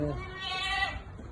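A single goat bleat at a goat farm, close and clear, a wavering nasal cry lasting under a second.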